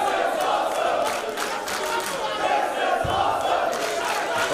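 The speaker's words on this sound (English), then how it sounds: "Crowd chanting, this is awesome." Arena fans at a pro wrestling World Cup qualifier in Germany keep up a loud rhythmic chant together, the massed voices steady and close with a brief thud partway through.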